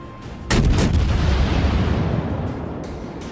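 Heavy naval artillery salvo from warship guns in World of Warships, a loud sudden boom followed by sustained rumbling roll that slowly fades, with no talk.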